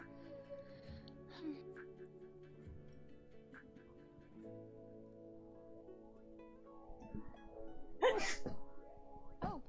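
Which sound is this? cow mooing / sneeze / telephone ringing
sneeze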